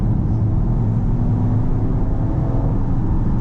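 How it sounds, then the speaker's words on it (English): A Porsche Cayenne Turbo, a big black SUV, rumbles with a steady, continuous low exhaust drone, loud and close, with no talk over it. "The exhaust, I think, just makes it. It sounds so good."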